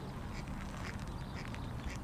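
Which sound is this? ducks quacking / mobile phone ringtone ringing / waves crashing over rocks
ducks quacking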